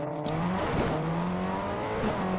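A car drives up in a video game, its engine droning steadily with shifting pitch and a brief rise partway through. It plays alone at a constant level.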